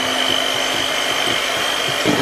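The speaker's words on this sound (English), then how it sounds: "we're just going to whisk this a little bit" Whipping cream being whisked for tiramisu, heard as a steady, loud whirring drone that runs without a break and swells slightly near the end.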